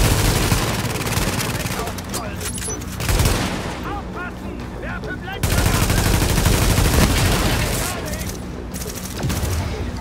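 Rapid gunfire bursts from the video game Tom Clancy's The Division, set at the Russian consulate, dense automatic fire with loud volleys and a brief pause, over a busy game soundscape.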